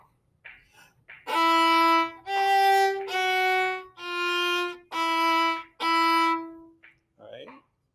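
Six sustained bowed notes step downward by half steps in a chromatic descending scale, played alone at close range with short gaps between notes, and faint talk before and after.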